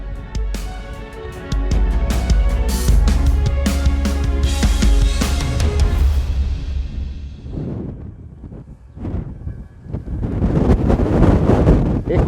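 Wind gusts buffet the microphone at the high point of a hilltop archaeological site near a nuraghe and giants' tomb in Sardinia, a loud rumbling roar that rises and falls, easing briefly before surging again.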